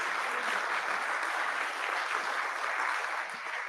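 Audience applause at a tech pitch event, a moderate, continuous wash of many hands clapping in a room, steady from start to finish.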